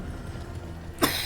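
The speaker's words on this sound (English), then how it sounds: "That one was the cough." A video game character coughs once, a short rough burst at the very end over a low, steady game background hum.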